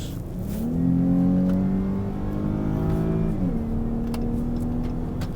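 Chrysler 300 engine revving up as it accelerates into third gear, pitch climbing then dropping at a gear change before rising again, close and steady.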